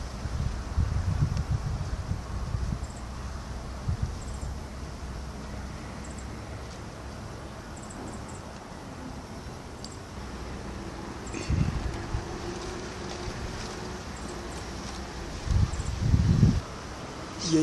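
Wind rushes steadily through leaves in a soft, continuous rustle, with a few stronger gusts rumbling low now and then.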